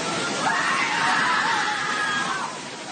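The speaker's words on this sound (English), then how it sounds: "people upstairs who were watching them from above suddenly began screaming" Several people scream together, loud and sustained and fairly close, as a torrent of muddy floodwater washes away a small house. Rushing water roars steadily underneath.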